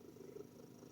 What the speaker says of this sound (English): If you hear the purring, he's in my lap.